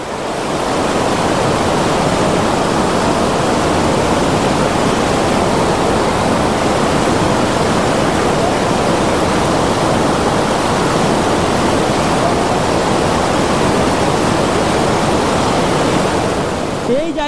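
Water rushing down a forest stream on a jungle trek in Buxa, a loud, constant broadband roar that fills the whole stretch without a break.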